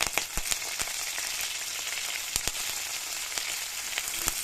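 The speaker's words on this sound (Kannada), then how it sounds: "ಕರ್ಬೇವು ಸೊಪ್ಪು ಹಾಕೋತಾ ಇದ್ದೀನಿ" Curry leaves hit hot oil for a lentil sambar, setting off a loud crackling fry with sharp pops and spits scattered throughout over a steady sizzle; no talking.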